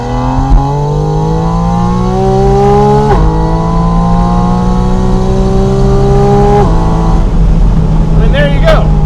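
A Porsche Spyder RS flat-six climbs hard through second and third gear on a highway on-ramp, loud and close, each rev rising to a peak before a crisp shift drops it, with a sharp exhaust crackle at the end.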